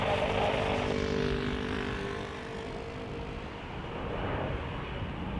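An airplane at Cleveland Hopkins International Airport drones past with a steady propeller-engine roar, loud at first, easing slightly mid-pass and then swelling again, with no talk over it.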